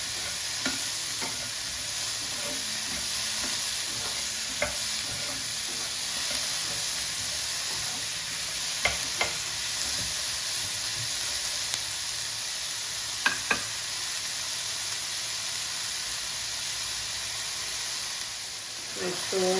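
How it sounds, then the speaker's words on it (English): Onions cooking down in a pan for spaghetti Bolognese, giving a steady close hiss of frying that runs the whole time, broken by a few sharp clinks and scrapes of stirring. "So the onions have been cooking now for about 2 minutes"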